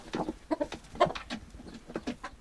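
Chickens in a mountain-village coop cluck and murmur in short, irregular bursts, several birds close by with soft overlapping calls and brief sharper notes, no talking.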